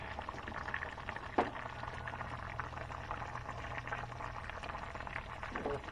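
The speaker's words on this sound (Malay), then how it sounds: "telah pun mendidih" Soft bubbling of a pot of rohu fish curry at a simmer, low and continuous, with a single brief knock partway through.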